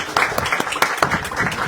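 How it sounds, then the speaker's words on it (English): A small audience applauds the speakers at the close of an airport press ceremony, with distinct individual claps in an uneven rhythm, fairly near and moderately loud, over a brief stretch. "Please give them all a warm round of applause."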